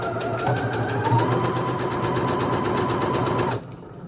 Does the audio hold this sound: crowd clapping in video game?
no